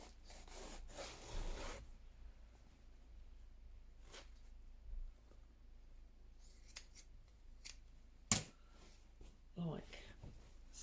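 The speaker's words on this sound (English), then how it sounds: "cut down the seam so that we've got a flat bit of fabric" Scissors cut down the seam of fabric for a soft layered journal cover, a few short snipping and rubbing passes close by, with faint handling noise between them.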